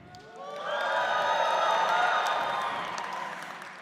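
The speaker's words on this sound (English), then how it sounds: "Exhale, and your biggest cheer on the count of 3" A crowd at an Indigenous graduation celebration lets out a big cheer on cue, whoops and shouts swelling quickly, holding loud for a few seconds, then fading, with some clapping mixed in.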